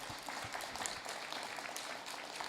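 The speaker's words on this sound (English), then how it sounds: "let's please give a round of applause to our panelists for joining us" An audience applauds panelists at the close of a community forum on healthcare recruitment in Humboldt County. The clapping is steady and dense, distant and fairly faint, with no talk over it.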